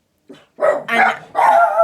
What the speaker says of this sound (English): I told you they would bark